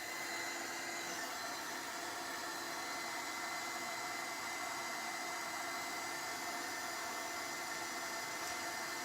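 A heat tool blowing steadily while drying rust paste on an old camera, a continuous close whooshing hiss with an even motor whine that holds without a break.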